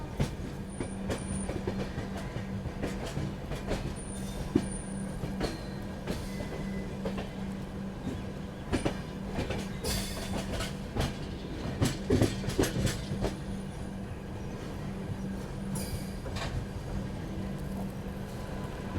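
Rajdhani Express train pulling slowly into Agra Cantt railway station: continuous rumbling rolling stock with irregular wheel clacks and occasional squeals, a steady hum underneath, close and moderately loud.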